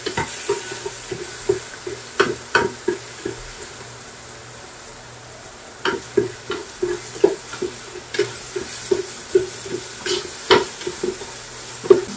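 Miso frying in cooking oil until golden brown, a steady sizzle beneath repeated clacking stirs of a utensil against the pan, arriving in quick irregular bursts with a short lull midway.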